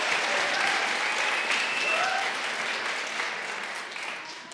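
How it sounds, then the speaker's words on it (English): Audience applause at a concert of Broadway songs performed with a children's choir, a dense, even wash of clapping that gradually fades toward the end, moderately distant. "So give her another round of applause"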